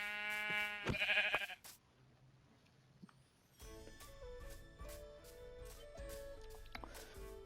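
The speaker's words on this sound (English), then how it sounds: "Let's kill some sheep in the process." A Minecraft sheep gives a loud, wavering bleat near the start, followed by quieter game ambience with soft tonal chimes and footstep-like ticks.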